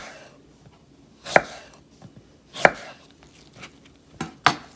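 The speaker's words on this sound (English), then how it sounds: "now we want really thin slices" A knife slices thinly through a Granny Smith apple, giving three sharp, crisp cuts spaced about a second apart against a quiet background.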